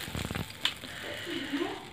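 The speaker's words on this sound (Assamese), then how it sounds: "এয়া অকণমান গৰম তেল দি দিয়া হৈছে ইয়াত।" Hot oil poured into rice flour for dosa batter gives a short, soft sizzle and crackle up close, fading quickly to a low hiss.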